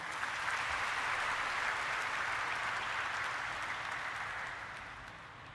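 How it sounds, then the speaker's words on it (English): An audience at a stock exchange listing ceremony for Allied Blenders and Distillers Limited gives a sustained round of clapping that holds steady, then gradually tapers off toward the end. "Last round of applause."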